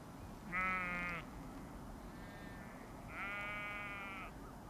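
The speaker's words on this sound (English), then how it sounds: "The island sheep, which provided the basic meat diet." Island sheep kept for meat on a remote Irish island bleat twice, two clear wavering calls a couple of seconds apart, moderately near over a low outdoor background hum.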